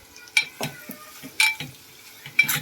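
A spoon stirring salt and spices into fish curry in a pot, a series of quiet scraping and clinking strokes in an irregular rhythm, with faint sizzling between them.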